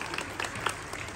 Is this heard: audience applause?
yes